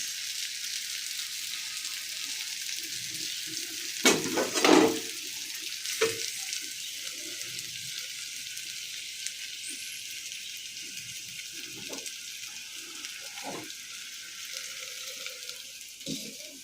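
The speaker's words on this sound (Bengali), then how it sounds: "এই যে আমি ডাল বাগার দিতে আছি" Spices frying in hot oil to temper dal, a continuous close sizzle with a few louder sputtering bursts scattered through it, and no talking.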